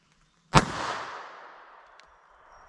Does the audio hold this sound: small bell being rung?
no